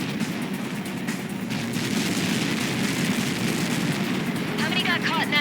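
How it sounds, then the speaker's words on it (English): Explosion in the video game Ace Combat 7, a sustained deep rumbling roar that holds loud and even across the whole stretch, with a brief electronic warble near the end. "How many got caught in that explosion?"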